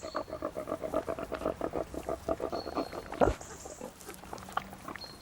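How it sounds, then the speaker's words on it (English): Pigs foraging for acorns and beech mast in an ancient English forest, a run of rhythmic grunts and snuffles close by, fairly quiet, with a brief louder rustle partway through. "Their pigs are turned loose in the forest to forage on acorns and beech mast."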